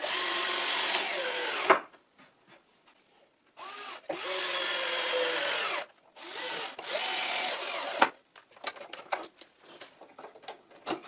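Power drill driving screws into a wooden sawhorse reinforcement, heard as several loud whirring bursts of a few seconds each with short quiet gaps, followed by lighter clattering handling noises at the end.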